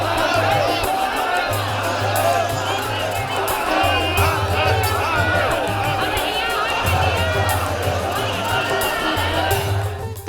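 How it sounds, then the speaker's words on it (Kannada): A large crowd of devotees at the Kumbh Mela during Makara Sankranti chants Har Har Mahadev, a dense roar of many voices with rhythmic, pulsing low chanting and scattered shouts, loud and continuous. "ಎಲ್ಲಾ ಕಡೆಯೂ ಹರ ಹರ ಮಹದೇವ ಜೈಕಾರ ಮೇಳೈಸಿತ್ತು"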